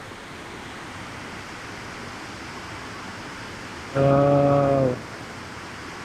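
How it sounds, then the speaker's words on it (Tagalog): A strong river current rushes near Wawa Dam in Montalban with a steady, broad roar of flowing water close by. A brief exclaiming voice cuts in partway through. "Lakas ng agos."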